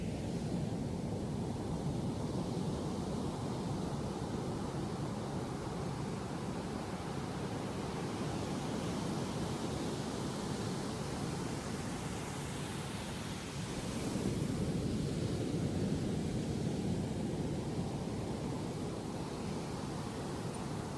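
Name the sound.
ocean waves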